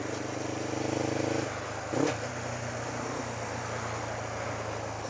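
Beginner motorcycle engine idling with a steady low drone, a short throttle blip near the middle, then settling back to a smooth, moderately loud hum.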